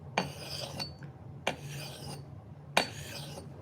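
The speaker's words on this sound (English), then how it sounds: "This is my 3000 grit stone with the axe." An axe blade is drawn across a 3000 grit sharpening stone in three separate raspy strokes, each starting with a scrape and lasting under a second, close and fairly quiet with pauses between.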